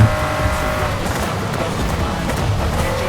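Nissan GTR R35 racing in Forza Horizon 5 on a wet road at over 320 km/h, played on a PXN V10 wheel: a loud sustained engine roar with tire hiss and faint squeal, steady and close.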